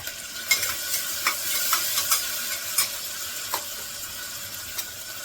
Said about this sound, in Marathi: मी चांगलं परतून घेते मी सगळं